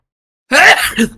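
A single person sneezes sharply and loudly close to the microphone after silence, a quick burst followed by a shorter trailing breath.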